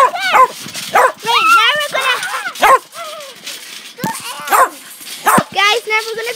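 A dog barks and whimpers in several excited bursts, wanting a ball during games on a trampoline; talk and laughter mix in closely around the barks.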